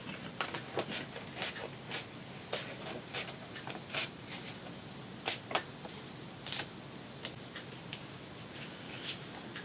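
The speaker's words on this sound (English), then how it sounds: "we're going to take this gusset and we're going to fold it on the first line" Manila folder paper gusset being folded along a scored line for a lapbook, heard as close, quiet paper crinkles and sharp creasing ticks repeating irregularly, with no talk.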